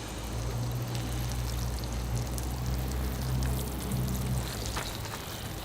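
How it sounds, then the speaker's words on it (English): Water poured from above onto the soil of a rosemary bonsai planting, a steady splashing trickle running several seconds under a low constant hum, with a few brighter patters near the end. "Okay, here I go with the water."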